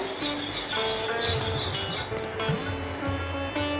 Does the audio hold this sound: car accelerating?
no